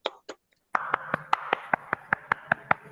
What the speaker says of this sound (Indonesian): Yuk kita berikan reward tepuk tangan untuk kelompok